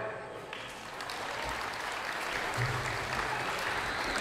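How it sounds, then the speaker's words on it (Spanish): Guests at a wedding reception meal applaud together, a dense, even wash of clapping that swells slightly and holds steady, heard from within the room. "Vamos a recibir con un fuerte y caluroso aplauso"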